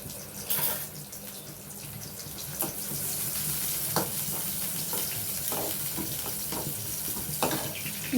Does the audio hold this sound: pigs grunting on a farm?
no